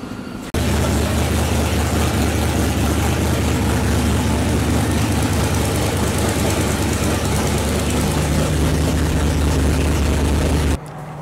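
A 1970 Dodge Charger V8 idling rich and untuned, a loud steady low rumble that holds constant for about ten seconds before cutting off abruptly.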